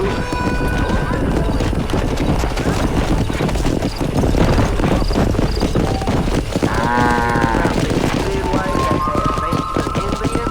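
Cattle being herded down a road in Red Dead Redemption, with a constant clatter of hooves from horses and livestock on the move, a cow lowing partway through and people talking over it.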